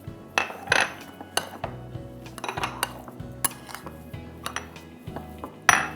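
Spoon clinking and scraping against a bowl while spices are stirred together for aloo paratha filling, a busy run of close, sharp metallic taps and clatters with no talk.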